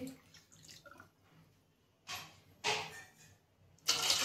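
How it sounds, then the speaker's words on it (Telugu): Water is poured into a bowl for vermicelli kheer in several short bursts, each a splashy rush separated by quiet pauses, close by and fairly soft. "వాటర్ కూడా వేసేసుకుంటున్నాను"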